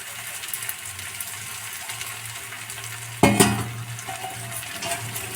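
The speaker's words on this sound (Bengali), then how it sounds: "সজনে ফুলটা দিয়ে এরপরে ভালো করে এটা নাড়বো। এই যে নেড়ে নিচ্ছি ভালো করে" Drumstick flowers fried in a wok give a soft, steady sizzle, then a sudden louder burst of hissing and stirring as they are tossed, settling back to a gentle fry.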